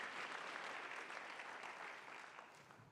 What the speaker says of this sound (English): Give them a round of applause here from Dearborn.